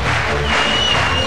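Crowd at a beach volleyball Grand Slam final in Berlin, loud, dense applause and shouting filling a brief, continuous burst.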